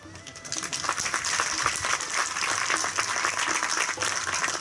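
Audience at a township foundation stone laying ceremony claps in steady, dense applause that holds throughout, with many hands close together and no talk over it.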